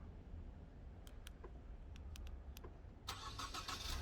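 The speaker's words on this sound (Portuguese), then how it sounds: "Pronto, ligou o veículo." Push-button start of a 2015 Ford Fusion Titanium FWD, heard faintly as a few clicks and a short starter whir before the engine catches into a steady low idle, recorded close with no talking.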